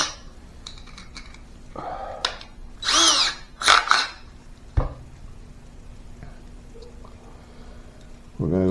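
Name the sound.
power drill drilling a hole in a bass guitar kit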